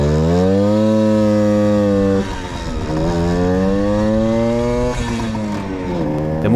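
A Puch Supermaxi moped's small two-stroke engine with 3-speed hand shift drones loudly and close, revving up and down in repeated waves as the bike rides along.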